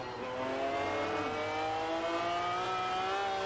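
A stage 3 tuned Saleen S7 supercar engine drones at steady high revs in Test Drive Unlimited, a loud, continuous, harmonically rich roar with a brief pitch dip as it shifts gear, and no talking over it.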